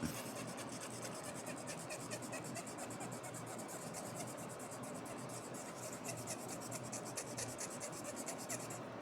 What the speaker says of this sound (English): So you'll take your fiberglass pen and just get to work on it.